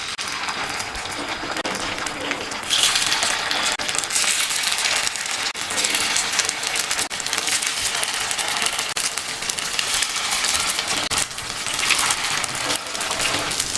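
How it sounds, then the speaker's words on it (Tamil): Paniyaram batter is poured into the wells of a hot, oiled paniyaram pan, setting off continuous loud sizzling and crackling that holds steady with small pops throughout. "ஒவ்வொரு குழியிலையும் பணியாரத்தை ஊற்றிடலாம்."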